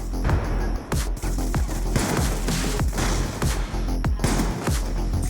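A KSG shotgun in the video game Black Ops 2 fires repeatedly, with loud booming blasts every half second or so and a dense wash of battle noise between shots.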